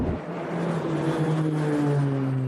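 A Firehawk Black Hawk helicopter flies over the Palisades wildfire in Los Angeles, its engine and rotor making a loud, steady droning hum with a low tonal whine that holds throughout.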